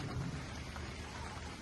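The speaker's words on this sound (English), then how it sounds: "Rain's getting a little harder." Outdoors, steady rain falls hard and close, a dense continuous patter with a low rumble beneath it.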